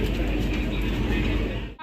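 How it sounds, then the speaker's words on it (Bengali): Inside a Vande Bharat train pulling away from the station, a steady low rumble and rolling hum fill the carriage throughout. "এই যে কাটায় মিলিয়ে ট্রেন কিন্তু ছেড়ে দিল।"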